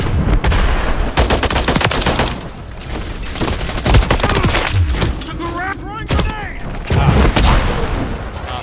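Rapid bursts of gunfire and booming explosions from a shooter video game, dense and loud throughout, with a voice briefly heard between volleys.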